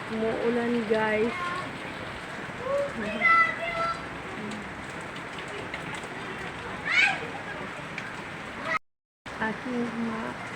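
Rain falls steadily as a soft, constant hiss, with a voice talking over it for much of the time.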